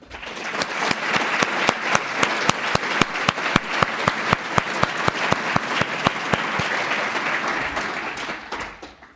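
Audience applause at the 2016 AXA Research Fund annual ceremony for Professor Baraka, a steady wash of many hands with sharp distinct claps standing out, swelling in then fading toward the end.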